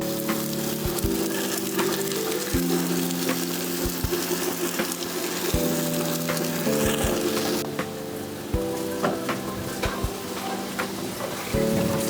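Oil heating and sizzling in a drum-style automatic stir-fry machine before green vegetables go in, a continuous hiss over a low humming motor drone with shifting tones and occasional clicks.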